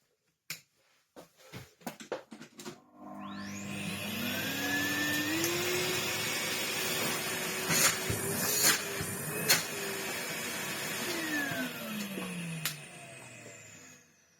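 A refurbished Henry Hoover vacuum cleaner is switched on after a few clicks and handling knocks, its motor whining up to a steady loud drone that holds for about ten seconds before winding down.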